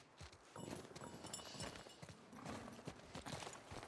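Horse hooves clip-clop in a snowy patrol scene from The Last of Us Part II, a steady walking rhythm of soft thuds under ambient game noise, fairly faint and continuous.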